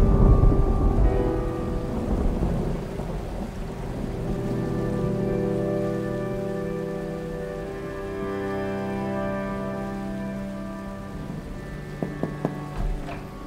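Heavy rain pours down in a steady, continuous wash, with low rumbling thunder rolling through it and a few sharp knocks near the end; no one speaks.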